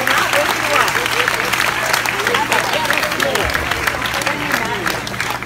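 An audience at a stage hypnotist show claps steadily and densely for several seconds, a close, even wash of hand claps with faint voices mixed in.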